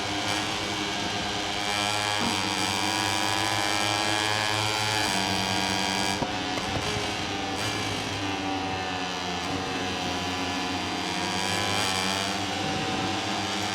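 KTM racing motorcycles in the MotoGP 21 video game, several engines screaming at high revs with rising and falling gear-change pitches, loud and continuous throughout.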